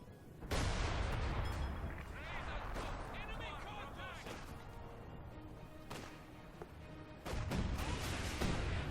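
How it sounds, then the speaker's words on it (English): Artillery barrage in the World War II strategy game Company of Heroes 2, with heavy booming impacts and crashing blasts rolling almost continuously and surging again near the end, loud and dense throughout. "there might have been an artillery barrage"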